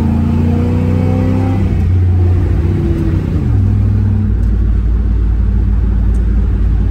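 An old car with a 727 TorqueFlite automatic transmission and 276 cams accelerates at full throttle, its engine droning loud and close, pitch climbing, dropping at a shift, then holding a steady heavy rumble.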